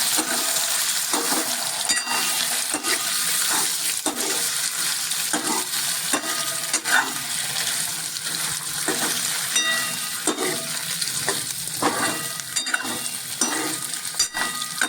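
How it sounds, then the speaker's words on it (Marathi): Potato pieces sautéed in a pan, a steady sizzle under frequent sharp scrapes and knocks of a spoon stirring them, close and fairly loud throughout. "बटाटे व्यवस्थित परतून घेतो."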